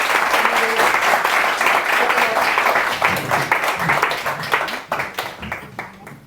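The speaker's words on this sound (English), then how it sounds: "I'd like you to join me in a round of applause to welcome our panelists to the stage" An audience at an economics social science festival event applauds to welcome panelists to the stage, dense and loud clapping that thins toward the end into scattered separate claps.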